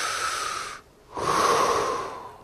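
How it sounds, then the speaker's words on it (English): A person breathes slowly and audibly, one long airy breath followed after a short silent pause by a second, louder and rougher breath, close and alone. "if you breathe in and out, you're using your lungs"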